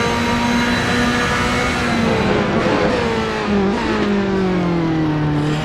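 A Ferrari race car engine at Silverstone in a racing game, droning loud and steady with a high tonal whine that shifts pitch through gear changes and corners, continuous and near.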